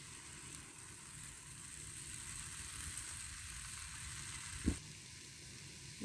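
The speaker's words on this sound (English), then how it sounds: "Now we need to heat up the pan and put butter on it." Butter sizzles in a heated pan while pancakes are made for breakfast, a quiet, steady frying hiss with a brief clunk of cookware near the end.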